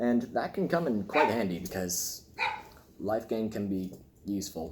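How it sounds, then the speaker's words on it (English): Dogs bark intermittently in the background, brief high yips cutting through steady conversational talk during a card game unboxing. "I'm sorry for the barking in the background."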